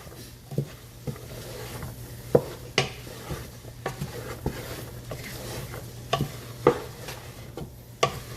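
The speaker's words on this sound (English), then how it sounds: "just go ahead and mix this in, brown everything together." Red beans ingredients are stirred and browned in a pot over medium-high heat, giving repeated scraping clicks and spoon knocks at an irregular pace over a steady low hum and faint sizzle.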